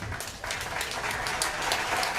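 Applause from the audience at an outdoor poetry event in the square during Nevis Culturama, a steady wash of many hands clapping that holds for a couple of seconds at moderate level with no talk over it.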